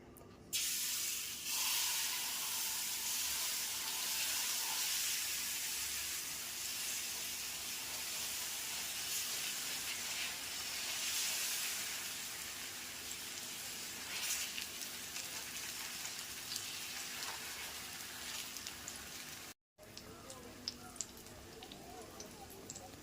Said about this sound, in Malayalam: നമുക്ക് ദോശമാവ് ഒഴിക്കാം.